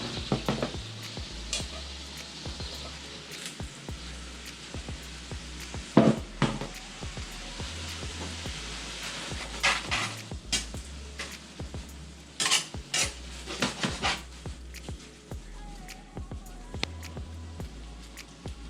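Bottarga and pasta tossed in a sizzling pan, with steady stirring and scraping of a utensil against the pan over a constant close frying hiss, plus occasional clinks and knocks.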